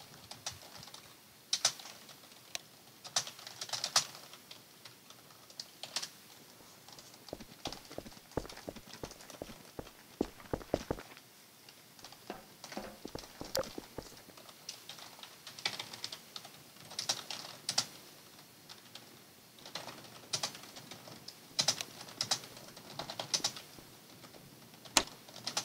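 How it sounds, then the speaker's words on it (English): Fast, irregular clicking of computer keyboard keys during a Garry's Mod session, loud and close, coming in steady bursts with short pauses over nearly half a minute, with no talking. "I was typing a PM"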